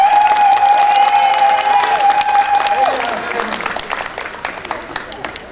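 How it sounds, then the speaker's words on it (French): A street-show audience gives a short test round of applause, dense clapping from a crowd that holds steady, then fades away after about three seconds, with a sustained tone and some voices mixed in. "on fait un tout petit test pour l'applaudissement"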